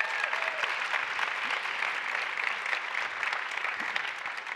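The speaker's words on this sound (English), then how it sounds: "So another round of applause to them, if you don't mind." Sustained audience applause at a political panel discussion on election eve, dense and steady clapping filling the room for several seconds without a break.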